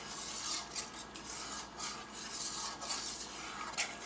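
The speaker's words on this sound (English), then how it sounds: "I'm just giving this a little bit of a stir so that the honey gets put into the liquid." A utensil scrapes and stirs honey into liquid in a bowl for challah dough, a steady close rasping and rubbing with soft repeated strokes, no voices.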